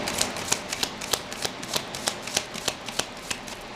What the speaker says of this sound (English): A lot of the oracle decks like to be shuffled like this.